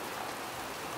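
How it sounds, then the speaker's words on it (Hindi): Continuous heavy rain falls outside on a cold day, a soft, even hiss of drops with no pauses and no voices. "बाहर ना काफी ज्यादा बारिश हो रही है यार"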